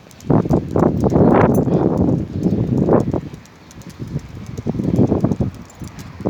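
Strong wind during a dusty sandstorm, loud buffeting gusts roaring and battering close by in uneven surges, easing briefly before rising again.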